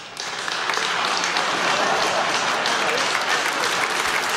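A studio audience breaks into loud, sustained applause that swells quickly at the start and holds steady as dense, continuous clapping, with no voices rising above it.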